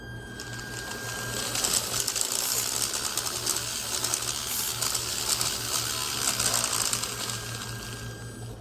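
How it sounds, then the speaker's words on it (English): An M&M launcher's feed motor whirs steadily while its servo clicks and ratchets in a fast, continuous mechanical chatter close to the microphone, with no talking. "it takes a measurement, spins up the feed motor. When it hits the right RPM, the feed servo swings over to push an M&M into the chute"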